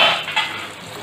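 Pointed gourd (parval) curry being stirred in a pan over a medium flame, a brief close hiss with a soft scrape of the spoon, no voices.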